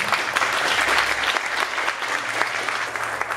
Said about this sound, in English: Let's just keep this applause going